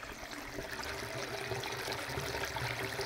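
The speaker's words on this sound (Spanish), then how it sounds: "ahí sale el chorrote de agua" Gush of water pouring out of the mountains, a steady, fairly faint rushing and trickling flow heard from a distance with no talk.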